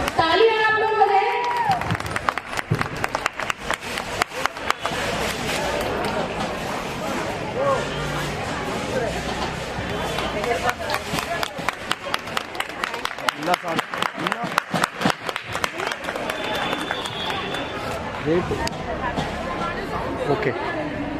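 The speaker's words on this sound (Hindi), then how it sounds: "तालियां आप लोग बजाएं।" A crowd applauds and claps hands at a family Christmas gathering, dense clapping running steadily through most of the stretch with chatter and voices mixed in.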